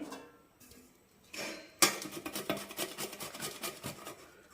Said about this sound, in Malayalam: പപ്പായ തോലെല്ലാം ചെത്തിയിട്ടുണ്ട് ഗ്രേറ്റ് ചെയ്തെടുക്കാം